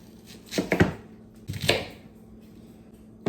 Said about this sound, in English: Let's roughly chop up 1 large yellow onion.